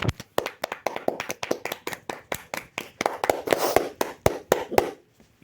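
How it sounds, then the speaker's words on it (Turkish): Clapping hands from a small group, a steady run of sharp claps that swells in the middle and then stops abruptly, close and fairly loud. "Alkış."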